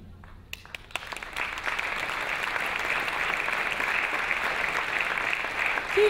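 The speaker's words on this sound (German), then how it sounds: "Danke für den Applaus." Audience applause at a cabaret performance with a salon orchestra, starting with a few scattered claps and swelling into steady, sustained clapping from a sizeable crowd.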